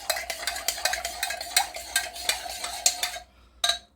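Quick, rhythmic stirring of cornstarch dissolved in water for Syrian shakriyeh, a spoon clinking and scraping steadily in a bowl, close up, stopping near the end with one final tap.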